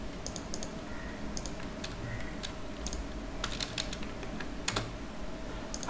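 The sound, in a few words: typing a web address on a computer keyboard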